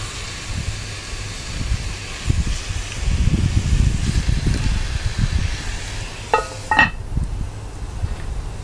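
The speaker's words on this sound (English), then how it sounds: "our Dutch oven is hot enough to hear that sizzle" Lamb chunks sizzle in a hot Dutch oven with a soft, steady hiss, a brief burst of clinking near the end, close but fairly faint.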